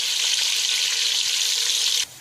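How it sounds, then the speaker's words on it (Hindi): A cup of water is poured into frying koftas in a cooking pan for kofta biryani, producing a loud, steady hissing sizzle close by for about two seconds before it abruptly drops away. "अब मैं ये कोफ्तों में मैंने 1 कप पानी डाल दिया ताकि वो थोड़ा सा गल जाए।"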